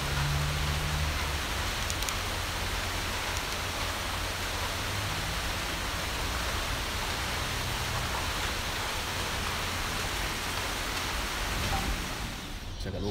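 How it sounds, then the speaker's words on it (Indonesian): Heavy rain pours steadily outside a villa, a dense, loud, continuous hiss and patter that holds throughout before easing slightly at the very end. "sekarang hujan lebat."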